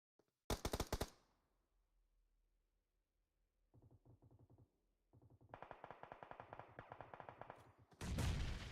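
Video game gunfire: a loud burst, a pause, then a rapid automatic volley of many shots, with a heavy blast at the end. The fire sounds close and clear, and no one speaks over it.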